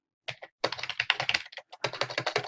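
Fast typing on a computer keyboard comes in close, distinct bursts of rapid key clicks separated by short pauses, with no talking.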